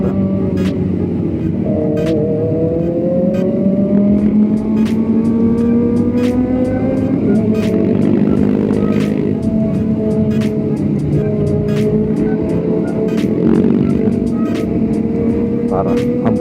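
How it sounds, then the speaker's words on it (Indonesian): A group of Harley motorcycles rides close by on a Sunday morning road ride, with loud steady engine drone and rising revs heard from a following Kawasaki Ninja 250 motorcycle, and a voice talking over the traffic noise. "Ini depan kita ada rombongan motor Harley ya."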